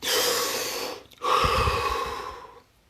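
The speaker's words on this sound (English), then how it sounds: "we're going to take 5 deep, deep breaths" Two deep, slow breaths taken during a guided breathing session, each a long airy rush lasting about a second, separated by a short pause, close and clear with no talking.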